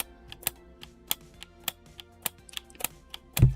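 Hori leverless controller button switches clicking back up as they are released, a string of sharp, light clicks at an uneven, quick pace, close by and dry, ending in a louder knock.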